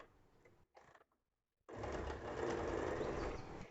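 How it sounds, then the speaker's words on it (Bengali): A sewing machine stitches the neck band of a square-neck nighty, starting with a short burst, pausing in near silence, then running steadily and fairly loud for the last two seconds. There is no talking. "দ্বিতীয়টাও একইভাবে সেলাই করে নিচ্ছি"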